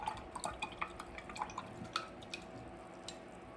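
Paintbrush swished and rinsed in a water cup during color mixing with paints, giving soft, close drips and small splashing taps, scattered irregularly and quiet, with no talking.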